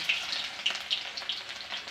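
Onions sizzle and crackle in hot oil in a home kitchen, a steady, close frying hiss broken by small pops, with no talk over it.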